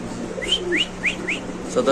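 Pigeons kept for sale, including black Lahori birds, call in a run of four short rising whistle-like notes, fairly close, over a steady low hum, with a brief chirp near the end.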